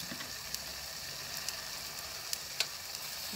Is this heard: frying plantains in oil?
yes